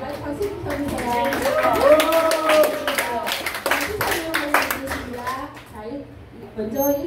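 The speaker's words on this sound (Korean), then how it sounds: "박수 좀 쳐주세요." Clapping from a congregation at a church service, sustained and mixed with voices and laughter, while a presenter announces prize-winning groups after a quiz.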